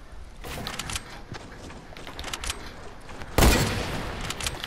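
Gunfire in Fortnite, with a sharp loud hunting rifle shot standing out near the end among scattered shots and game noise.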